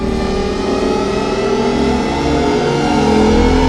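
A powerful car engine roars steadily and loudly as it accelerates, a deep throaty rumble building with rising revs throughout.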